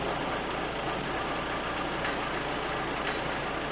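A forklift moves slowly in first gear during operator training in Kolkata, a steady, continuous engine drone close by with no pauses or voices.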